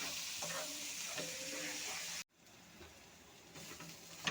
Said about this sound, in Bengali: পেস্টটা ভালো করে ভেজে নিয়েছি